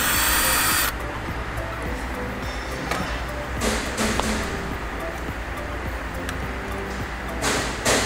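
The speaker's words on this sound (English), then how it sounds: "So we remove the bolt." Ratcheting and whirring tool sounds come from removing a bolt on an ABB circuit breaker that fails to close, a steady close mechanical grind with a few brief bursts and faint background noise.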